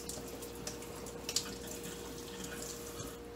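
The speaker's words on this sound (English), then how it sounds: "try and run a good stream of water through the hole the best that I can" Water streams steadily through a hole in a part of a Premier pet water fountain during cleaning, a continuous close rushing hiss with a faint hum beneath and no talking.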